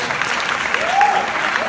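A premiere audience in Harlem claps for the cast, a short burst of dense, even applause with crowd murmur and a brief vocal whoop in the middle.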